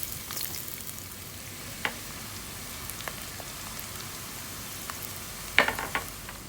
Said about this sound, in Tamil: இப்போ இதில் நம்ம வெட்டி வச்சுருந்த பெரிய வெங்காயத்தை சேர்த்துக்கலாம்.